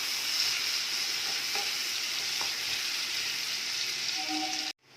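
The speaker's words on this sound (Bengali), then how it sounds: "এখানে আমি কাঁচা লঙ্কা নিয়েছি, আদা কুচো নিয়েছি আর রসুন নিয়েছি। তিনটেকেই একসাথে দিয়ে দেবো, দিয়ে পোড়াবো না" Green chilli, ginger and garlic sizzle steadily in melted butter, a dense, continuous frying hiss with a few faint stirring clicks, close and alone until it cuts off abruptly at the end.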